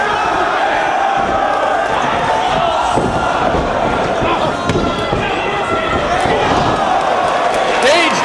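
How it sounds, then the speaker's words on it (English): A large wrestling crowd roars and cheers continuously at high volume, a dense wall of yelling with sharper shouts rising above it, during a cage match. "listen to the crowd"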